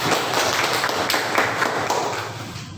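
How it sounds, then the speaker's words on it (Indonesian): Audience applause for group 4 in a school classroom at SMAN 6 Tanjung Jabung Barat, a lively patter of hand claps rising quickly and holding steady before thinning out, fairly near and bright. "Beri aplaus kepada kelompok 4."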